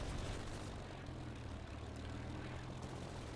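French fighter aircraft in the video game Easy Red 2 drone overhead with a steady, faint propeller-engine hum, alone and unbroken.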